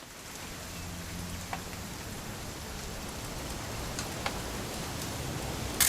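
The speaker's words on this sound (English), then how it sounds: "It's gonna rain the whole weekend, isn't it?" Steady rain falling in the video game What Remains of Edith Finch, a dense even patter with a few louder drops, heard alone without talk.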